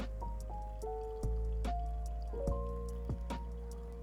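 Hot water poured over coffee grounds in a pour-over brewer, heard as faint, scattered drips and small liquid plinks in a quiet room.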